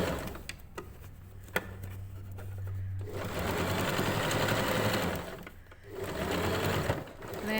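A sewing machine stitches elastic into a fabric cuff, its motor humming steadily in long close runs, with a short stop and a reverse stitch toward the end.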